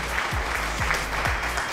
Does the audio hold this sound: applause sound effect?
yes